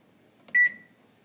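A single short electronic beep from an oven control panel as the timer button is pressed, clear and close against a quiet kitchen background.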